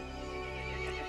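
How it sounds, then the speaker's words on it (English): A horse in the video game Resident Evil Village gives a loud, close whinny lasting about a second, alone without talk. "The horse grew angry and summoned the other monsters."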